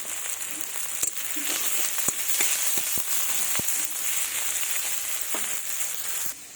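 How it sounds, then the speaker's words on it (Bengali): Onions frying in oil with a pinch of salt give a steady crackling sizzle, broken by a handful of sharp clicks and taps as they are stirred in the pan. "পেঁয়াজগুলো লাল লাল করে ভাজা হয়ে গেছে"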